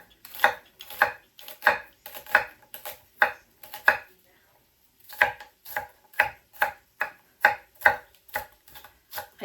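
Onion being chopped with a knife on a board: sharp, even knife taps in quick rhythmic runs, a brief pause midway, then more steady close chopping, with no talking.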